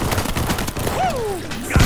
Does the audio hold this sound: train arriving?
no